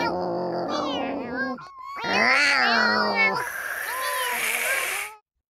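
A voice actor imitates cats, producing a series of meows and drawn-out caterwauling yowls, some whining and some rising in pitch, close and loud, then cutting off abruptly.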